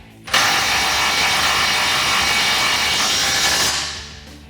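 A ratchet wrench tightens 18mm nuts on the bolt plate of a Smittybilt M1 front winch bumper on a 2009-2018 RAM 1500, giving a steady, loud run of fast clicking for about three seconds before trailing off.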